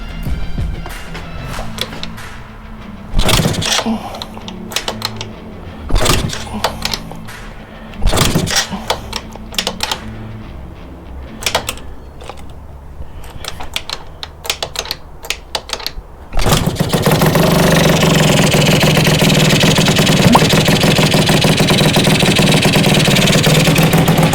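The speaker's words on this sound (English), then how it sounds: "Let's see if this bad boy starts." A Yamaha Jog 70cc scooter engine is kicked over repeatedly with short sputtering bursts and clattering attempts, then catches and settles into a loud, steady buzzing idle for the last several seconds.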